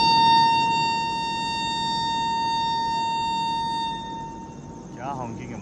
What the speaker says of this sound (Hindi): क्या हॉन्किंग है बॉस।